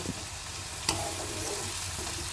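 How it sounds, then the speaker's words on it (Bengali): Ginger, garlic and onion fry together in a pan, giving a continuous close sizzle with a brief scrape of stirring, with no voices. "এই আদা রসুন পেঁয়াজের সাথে ভালোভাবে মিশিয়ে একটু ভাজা ভাজা করে নেব"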